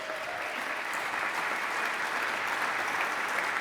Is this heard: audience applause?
yes